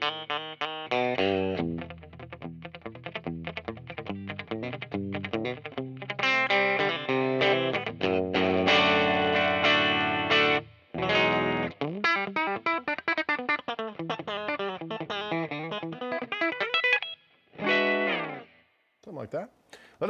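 Fender American Vintage Hot Rod 1952 Telecaster electric guitar on the bridge pickup played clean, loud strummed chords and single-note runs alone, with a few brief pauses and ringing sustain, though effects coloring is present.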